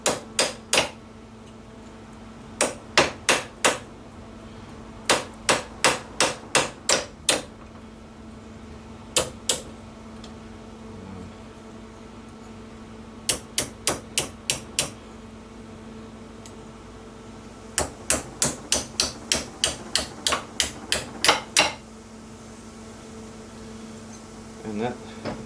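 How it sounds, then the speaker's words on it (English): A small hammer strikes a steel panel held over a dolly on a 1965 Ford Falcon lower radiator support, with loud, sharp metallic taps arriving in quick bursts of several blows separated by pauses. "So I've got a dolly here, just grab a little hammer and I'm just trying to shape it a little bit more around the edge."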